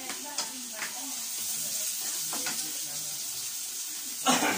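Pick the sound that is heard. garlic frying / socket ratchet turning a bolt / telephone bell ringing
garlic frying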